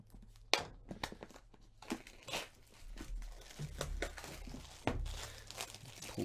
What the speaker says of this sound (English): Pull back the cellophane cover here.